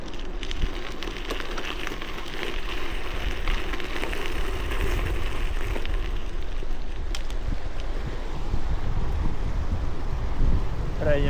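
Gusty wind roars across the microphone on a snowy mountain trail, a continuous low rumble with louder surges and no other clear sound rising above it.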